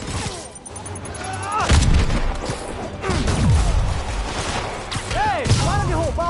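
Explosions and bomb blasts in the PS4 game Spider-Man, with several loud broadband bursts around two and three seconds amid constant game noise, effects and voices talking over the action.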